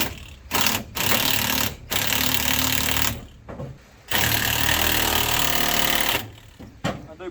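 A big impact wrench drives a bolt on a 1953 Chevy, rattling out loud, harsh hammering bursts of one to three seconds separated by short silent pauses.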